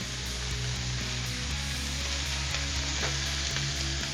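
Burger patties sizzling on a Blackstone griddle, a dense steady crackle and hiss of frying fat with faint scraping, heard close and alone.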